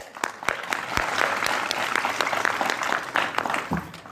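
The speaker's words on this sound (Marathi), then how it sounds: "मी जोरदार टाळ्या वाजवतो" A village audience at a Shivaji Jayanti lecture breaks into applause, a dense, sustained wash of clapping with a few louder individual claps standing out, steady throughout and moderately loud.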